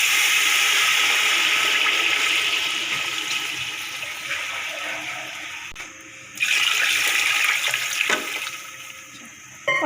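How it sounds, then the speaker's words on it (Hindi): Water pours steadily into a cooking pot holding rice for aloo pulao, a loud continuous gushing stream that softens midway, then surges again with splashing and a brief clatter near the end. "और जिसमें 2 गुना पानी डालेंगे।"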